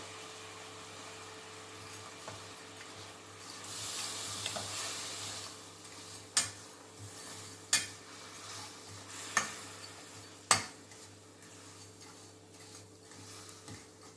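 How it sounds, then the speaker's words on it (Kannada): Jaggery melting with a little water in a pan, stirred with a spoon: a soft steady sizzle and scraping hiss, with a few sharp taps of the utensil against the pan, close up and with no talking. "ಇದು ಬೆಲ್ಲ ಚೆನ್ನಾಗಿ ಕರಗಬೇಕು."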